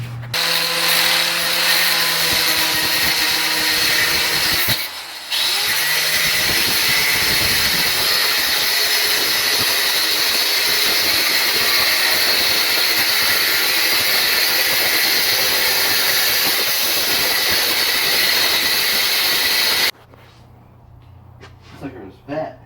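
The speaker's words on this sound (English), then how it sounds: "it messed up the threads on the bolt, and it's gonna have to be cut off" A power tool cuts off a bolt on the axle of a Yerf-Dog 3020 go-kart, a loud steady high-pitched whine grinding for about twenty seconds with one brief pause, then stopping into quieter workshop sounds.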